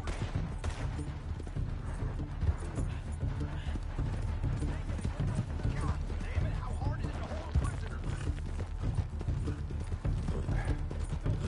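A horse galloping in Red Dead Redemption 2, its hoofbeats a dense, continuous clip-clop under loud game sounds that include gunfire, while someone talks over it the whole time.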